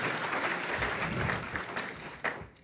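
Audience at a civic event applauds sponsoring organizations, a dense, steady wash of clapping that tapers off with a few final claps.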